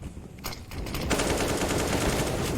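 Rapid automatic gunfire from a spraying rifle in a professional Counter-Strike: Global Offensive match, a few scattered shots then a dense, loud continuous burst lasting well over a second.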